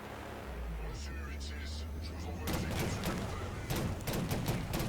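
Gunfire in the shooter game Killzone: bursts of rapid shots crackle through the second half, loud and dense, following a lower rumbling stretch, with a voice talking over the action.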